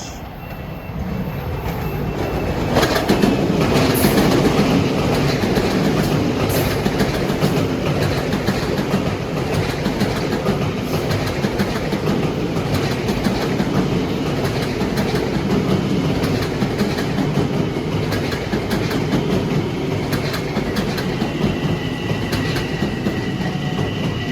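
A commuter train rumbles steadily past on the triple track at Mineola, loud and close, with a continuous clattering roar of wheels and cars that persists throughout.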